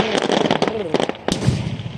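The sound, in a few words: fireworks rapid firing at a 4th of July marina show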